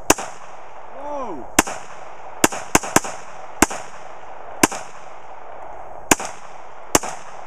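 Sharp, loud gunshots from an EAA Witness Elite Match .45 ACP pistol, about ten separate cracks fired at uneven intervals over several seconds, each with a short echoing tail, heard outdoors at a range.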